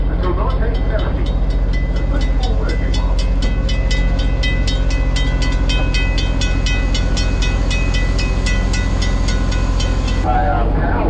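A Pemberton tramway car powered by a 3-cylinder, 55 horsepower Italian drive rumbles along the rails with a loud, steady engine drone and a rapid rhythmic clatter that continues throughout, with a brief shift near the end.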